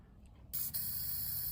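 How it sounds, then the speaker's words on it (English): Spray paint hissing from a can for hydro dipping a dirt bike, a short quiet pause followed by a sudden steady aerosol hiss that continues to the end. "About to put the paint in there, spray it in there, and dip it and see how it does."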